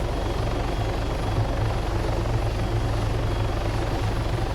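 Steady, loud helicopter rotor and engine drone from the video game Arma 3, a continuous low thumping hum with no talking over it.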